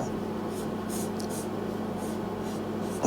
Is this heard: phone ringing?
no